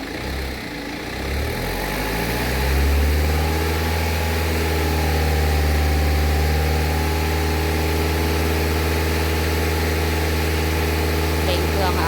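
A BMW engine revved with the air conditioning running, the idle climbing to a steady higher drone and holding there, close and loud with a continuous hum, while someone speaks over it.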